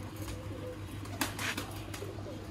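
Sialkoti breeder pigeon held in the hand gives low, soft coos, faint and close against a steady hum, with a brief rustle of wings or feathers partway through.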